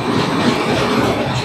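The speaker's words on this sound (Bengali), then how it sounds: "বৃষ্টিকে সাথে নিয়েই আমাদের ট্রেন ছেড়ে দিল তার পরবর্তী স্টেশন অনুর্ঘ নারায়ণ রোডের উদ্দেশ্যে।" The Poorva Express runs through the rain, a close, steady rumble of carriages with faint wheel clatter throughout.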